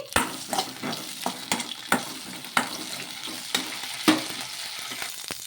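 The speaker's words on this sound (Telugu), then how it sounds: "ఇందులోకి కొద్దిగా నూనె అనేది వేసేసుకొని పచ్చిమిరపకాయలని మగ్గించుకోవాలి" Green chillies fry in a little oil in a pan, a soft sizzle punctuated by repeated sharp scrapes and clacks of stirring, fairly faint and close.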